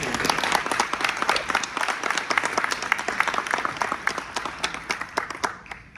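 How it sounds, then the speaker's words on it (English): A crowd applauds steadily, dense clapping filling the whole stretch before tapering off slightly at the end. "Please give yourselves a huge applause for that."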